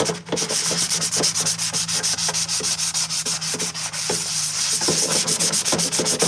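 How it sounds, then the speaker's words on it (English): Purge Trooper armor pieces being sanded by hand with a block, loud rhythmic back-and-forth rasping strokes in a steady, even series, close up and alone. "I do a combination of mouse sander, electric sander, and then some hand sanding as well with the block"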